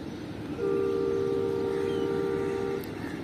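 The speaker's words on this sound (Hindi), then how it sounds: "और ZCU के विसल्स की आवाज़ पहुंच गई है मेरे कानों तक" A ZCU locomotive hauling the Awam Express sounds its whistle, a steady two-tone horn that holds for about two seconds at moderate distance over low rumbling background noise.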